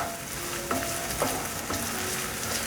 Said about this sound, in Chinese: 锅内放入1大汤匙的油，把香菇放进来炒香